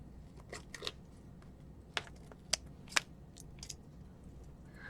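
Non-stick scissors cutting aluminum foil tape in a quiet craft setting, a scattered series of short, crisp snips and light crinkles, close and fairly soft.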